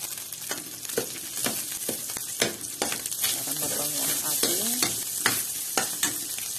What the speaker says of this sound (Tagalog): Pwede na tayo mag-gisa ng bawang sibuyas. Ayan, lagay natin yung butter.